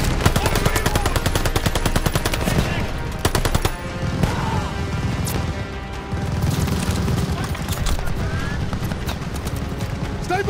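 Rapid machine gun fire in the World War II shooter Call of Duty Vanguard rattles in loud, dense bursts alongside other gunshots and booms, close and continuous, with voices calling out amid the battle.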